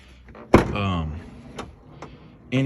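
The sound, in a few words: forcing 1999 Chevrolet Silverado door closed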